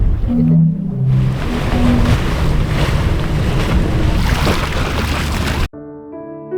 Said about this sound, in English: the sea air blows through these little formations on these steps, and it literally makes sounds